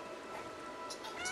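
A cat in the video game Stray gives a short, faint meow over a quiet hiss of background ambience.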